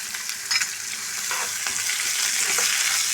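Green chillies, curry leaves and sliced onion fry in oil in a pan while being stirred, giving a close, bright sizzle with scraping stirs and no voices.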